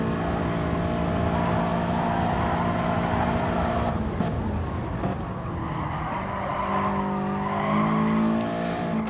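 Race cars in a GT touring car racing video game at Sainte Croix, engines droning steadily while tires squeal and skid through a corner, the pitch shifting as the cars accelerate out.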